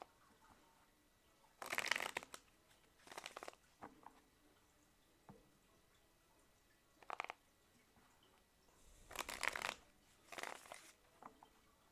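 Tarot cards shuffled in a few separate bursts of soft riffling and sliding, close and quiet, with pauses between and no talk.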